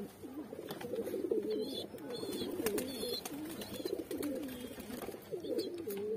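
Baby pigeons being hand fed, making soft, repeated cooing and gurgling calls up close, with small squeaky chirps and faint rustling mixed in at a low overall level.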